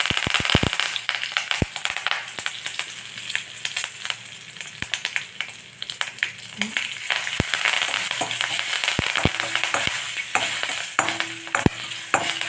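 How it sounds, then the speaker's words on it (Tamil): Mustard seeds pop and crackle sharply in hot oil over a continuous loud sizzle, the bursts irregular and frequent, with some stirring as curry leaves are added. "கடுகு வெடிச்சிட்டு"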